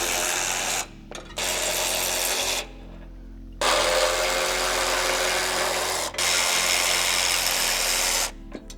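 A power tool removes bolts from the front crash bar of a Toyota 4Runner during a bumper install, whirring in several loud sustained bursts separated by brief pauses.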